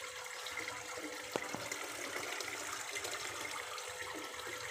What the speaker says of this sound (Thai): นี่แบบที่1นะครับ จะเป็นน้ำพุแบบนี้ครับ